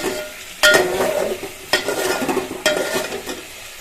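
Ingredients sauté in oil in a pan with a close, steady sizzle, and a utensil strikes and scrapes three times as the mixture is stirred.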